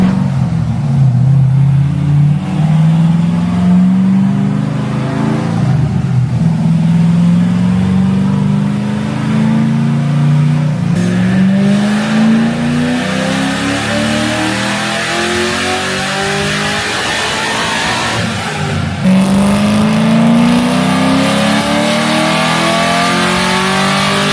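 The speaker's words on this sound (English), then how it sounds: "They actually threw the car on the dyno." A Corvette Z06 engine revs hard on a dyno, climbing in pitch repeatedly in long sweeps, loud and close throughout.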